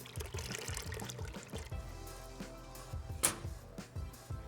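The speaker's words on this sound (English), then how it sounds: "take your cup full of the blended up paper and water and pour" Blended paper pulp and water pours from a cup into a deckle during hand papermaking in a studio, a soft close trickle and splash with a few brief gurgles, no voices.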